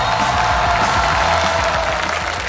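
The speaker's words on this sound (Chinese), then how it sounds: "让我们掌声恭喜" A studio audience at a televised Chinese comedy competition applauds steadily and loudly, a dense wash of clapping that lasts throughout with no pause.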